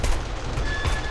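Continuous gunfire from weapons in the zombie-survival video game 7 Days to Die during a massive horde night, a dense, steady rattle of rapid shots with a few heavier bursts, loud throughout with no pause.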